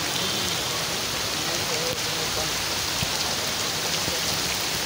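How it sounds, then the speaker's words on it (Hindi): Heavy rain pours down outdoors in a steady, dense hiss that stays loud and unbroken throughout, with no voices over it. "ये देखिए बारिश में भीग के जाना पड़ेगा।"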